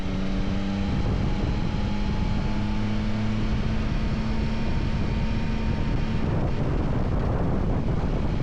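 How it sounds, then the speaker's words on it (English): Strong crosswind buffeting a Yamaha Tracer 9 GT motorcycle at speed on a road past open fields, heard as a constant loud roar of wind on the microphone with low engine drone underneath. "Wow, that's a crosswind."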